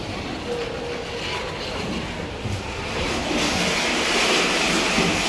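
A Kone EcoDisc passenger lift built in 2003, rated for 13 persons and 1000 kg, at the Water Gardens in Harlow, travels between floors with a steady, close rumbling hum that swells slightly near the end.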